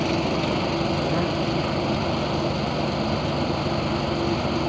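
Honda GX200 engine driving a rice threshing machine, a steady, loud, continuous engine drone with constant throbbing mechanical roar and no pauses, close by and alone without talk.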